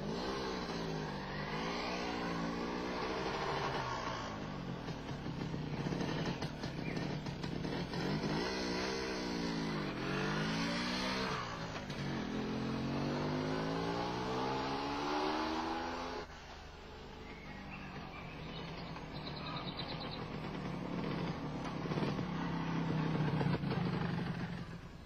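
An MZ ETZ 250 motorcycle on a test drive of about five kilometres, its engine revving up and down through repeated rising sweeps, loud and close, easing off partway before picking up again.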